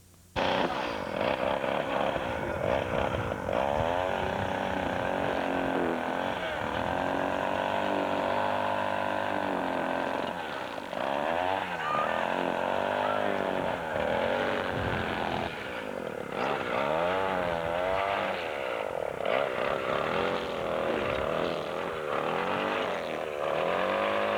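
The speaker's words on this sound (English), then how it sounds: "someone's cutting wood" A loud, close power saw whines and revs continuously, its pitch dipping and rising as it bites through wood, with a brief voice faintly under it.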